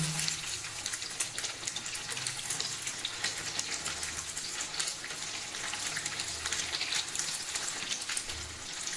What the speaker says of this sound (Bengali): এই পাশ ও পাশ উল্টিয়ে পাল্টিয়ে 1 মিনিট সময় করে ভেজে নেব।